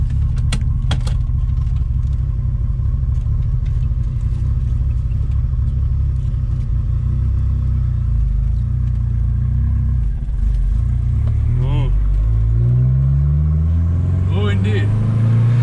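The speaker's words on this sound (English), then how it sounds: "we're gonna take it for a little test drive to Quick Check" A 1984 Ford Mustang SVO with a manual gearbox on a test drive: steady engine rumble and road noise throughout, then rising revs sweep upward as it accelerates near the end, with people talking over the cabin drone.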